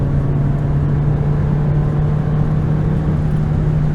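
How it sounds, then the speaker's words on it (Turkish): A Fiat 500X in sport mode accelerates at highway speed, its engine droning steadily and loudly with a constant drivetrain hum and road noise, heard from inside the cabin. "Gaza basıyorum şu an yukarı aşağı giderken. Vitesi düşürdü 4'e."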